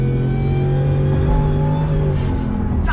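A 2020 Shelby F-150 Super Snake Sport truck engine is held on throttle, a loud, steady, deep roar with a strong low drone, and a whooshing rush creeps in near the end.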